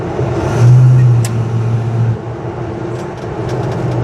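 A 1970 Chevrolet C/K 10 pickup truck drives along with a steady low engine and road rumble and a brief louder swell early on; no voices.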